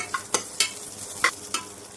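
Mustard seeds, urad dal, cumin, dried red chillies, asafoetida and curry leaves crackle in hot oil while tempering buttermilk curry (mor kuzhambu), heard as a handful of sharp, separate pops over a faint steady sizzle.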